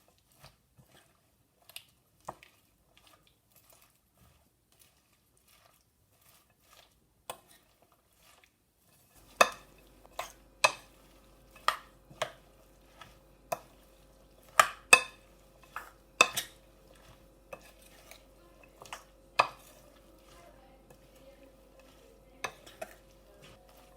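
A utensil stirs egg and sweet potato omelette batter in a bowl, producing a sparse series of sharp clinks and taps that grow more frequent after a quiet start.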